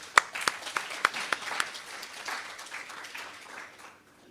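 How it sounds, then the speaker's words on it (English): A small audience at a community dialogue panel gives scattered claps for the panelists coming up. A few sharp, close claps come early, then a thinning, softer patter fades out. "Can I ask our panelists to come up as we give them a warm round of applause?"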